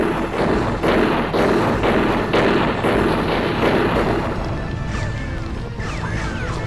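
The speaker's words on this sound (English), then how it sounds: "Hail of gunfire." Loud, dense battlefield gunfire and crashing impacts from the Ring of Red video game rattle in a rapid continuous hail, easing toward the end with a few faint whistling tones.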